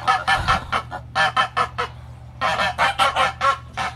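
Geese in a garden honk repeatedly in loud, close bursts, a busy overlapping flock calling almost without pause.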